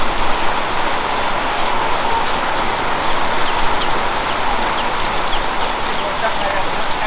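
Steady rain falls on a construction site where walls are going up, a dense, even hiss of drops that stays loud and continuous throughout.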